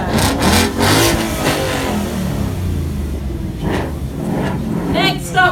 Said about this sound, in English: Give it a rev and off you go.